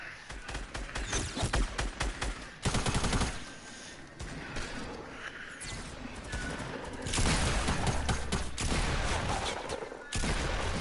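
Rapid SMG fire in a video game shooter, with dense bursts of gunshots repeating almost the whole way through and a short lull near the middle.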